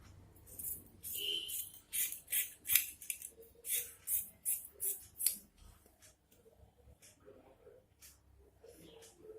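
Scissors snip through blouse lining cloth while cutting out a sleeve, about eight crisp rhythmic cuts in a quick run, close and clear, then quieter handling of the fabric.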